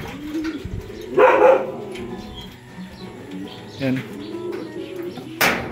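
Racing pigeons, a mated pair, give soft low coos in a few short bursts close by while someone talks over them in Filipino.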